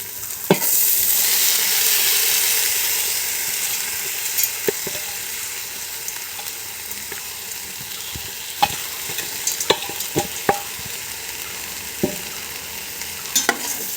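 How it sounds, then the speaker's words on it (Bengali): Soaked rice tipped into a pot for Bengali khichuri sizzles loudly at first, then settles into a softer fry as it is stirred, with scattered clinks and scrapes of a utensil against the pot. "এখন আমি চাউলগুলো এখানে দিয়ে দেবো।"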